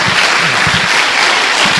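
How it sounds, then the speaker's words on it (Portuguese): A church congregation claps for Jesus during a worship service, loud and continuous applause with dense, even hand claps and no voices over it. "Dê uma salva de palmas a Jesus."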